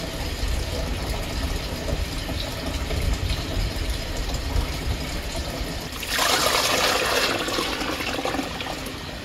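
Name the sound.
pouring a bucket of cold water into a sterilizer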